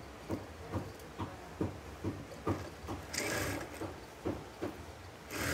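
A sewing machine stitches salwar fabric with a faint, steady rhythmic thump about twice a second, and a brief louder whir near the middle.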